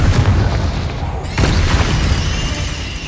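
An explosive fire spell goes off in a fantasy video game, with dense, heavy booming blasts filling the clip and a fresh loud burst near the middle.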